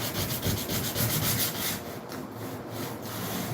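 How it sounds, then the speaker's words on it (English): Close, steady back-and-forth rubbing of sandpaper during the restoration of a Lasko Ultra Force box fan, a dense rasping that softens slightly toward the end. "Starting to actually rub like the sandpaper, like thin."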